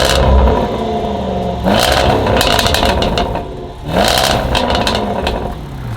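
A 2018 Range Rover SVR with quad exhaust revs loudly up close in two strong bursts, the engine climbing and then easing off between them.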